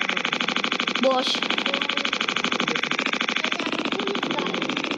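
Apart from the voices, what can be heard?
police motorcycle engine idling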